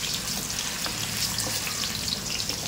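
Potatoes fry in hot oil with a dense, steady bubbling sizzle and scattered pops, close and even throughout.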